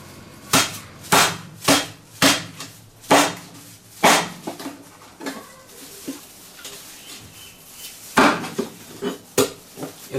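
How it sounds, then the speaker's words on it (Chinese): A cleaver chops a black-boned silkie chicken into pieces on a board. About a dozen heavy, sharp thuds land close by in an uneven rhythm, with a brief pause midway. "下面我把这个乌鸡给处理一下，给它剁成块儿"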